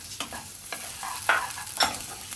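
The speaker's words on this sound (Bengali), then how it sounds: "দিয়ে দিচ্ছি সেদ্ধ কিউব করে রাখা আলুর পিসগুলোকে" Boiled cubed potatoes tumble into a pan of sizzling liver fry, giving a steady close crackle of frying with a few sharper bursts and stirring scrapes as the pieces land and are moved.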